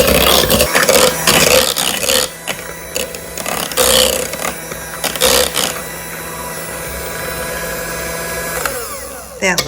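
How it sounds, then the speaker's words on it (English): Stand mixer or blender whirring through banana cookie dough with butter, a loud mechanical motor grind that pulses and labors in uneven bursts, then settles into a steadier hum for several seconds. "Now blend this till it's nice and creamy."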